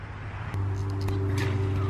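A regenerative blower for an aquaponics system switches on and settles into a steady, loud low hum with a humming tone above it, running continuously after a quieter background start.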